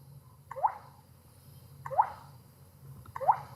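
Scratch Pong game sound effect as the paddle touches the ball: three soft, short, watery plop-like blips spaced about 1.3 seconds apart over a faint hum.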